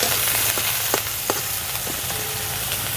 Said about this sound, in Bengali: বেগুনটাকে একটু নাড়াচাড়া করে ভেজে নেব।